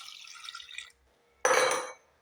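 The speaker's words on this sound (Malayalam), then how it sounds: "കുറച്ച് വെള്ളം ഒഴിച്ചു കൊടുക്കാം." Water splashes from a vessel into a cooking pot holding drumsticks for a prawn coconut curry, in two short pours separated by a brief pause, the second louder and fuller, with no talk.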